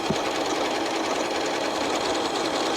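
A Janome Horizon 9400/9450 sewing machine stitches out a custom programmed stitch sequence, a steady fast mechanical whir and rapid needle chatter running continuously at close range with no talk.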